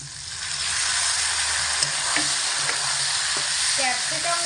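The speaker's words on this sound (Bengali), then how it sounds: "ক্যাপসিকামগুলোকেও তেলের মধ্যে ছেড়ে মোটামুটি 3 থেকে 4 মিনিট মতো সময় নিয়ে মিডিয়াম আঁচে রেখে কষাবো, ঢাকা চাপা না দিয়ে আর অনবরত এরকম নাড়াচাড়া করে।" Capsicum pieces fry in hot oil with lightly browned potatoes over medium heat in an uncovered pan, a loud continuous sizzle with occasional scrapes from stirring.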